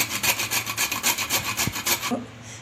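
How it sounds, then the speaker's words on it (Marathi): Quick rhythmic rasping strokes, about a dozen in a row, as a nutmeg is grated against a metal grater, then it stops. "तुम्ही अर्धच जायफळ वापरा ते आता आपण किसून घेऊ"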